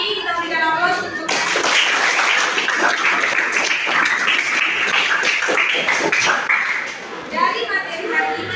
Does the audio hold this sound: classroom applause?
yes